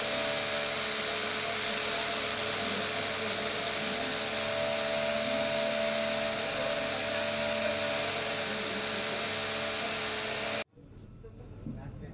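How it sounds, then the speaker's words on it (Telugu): A power drill bores holes for stone pillars at a community Ganesh temple construction site, making a loud, steady droning whine for about ten seconds before it cuts off abruptly. "ఇప్పుడు ఆ డ్రిల్ చేసి అందులో సీకులు"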